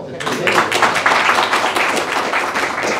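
Audience applause at a Labor Party funding announcement event: a continuous patter of many hands clapping, moderately loud and steady for a few seconds.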